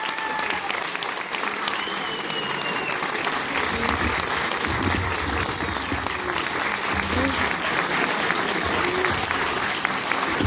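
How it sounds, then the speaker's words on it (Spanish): Sustained, dense applause from an audience at a Star Wars fan event in Argentina, following a Princess Leia costume appearance, running steadily and loud throughout with faint crowd murmur underneath. "Un fuerte aplauso."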